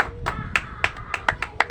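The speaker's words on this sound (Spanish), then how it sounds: "Dele palmas al Señor, hermano." A church congregation claps hands in praise during a Spanish-language service, a series of sharp, fairly regular claps close by with a faint voice or tone running underneath.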